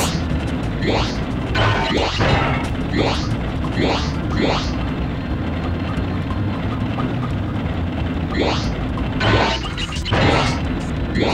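TNT crates exploding in Spyro 2: Ripto's Rage, several sharp crashing blasts in clusters over a constant loud game background, with a pause in the middle before more explosions near the end.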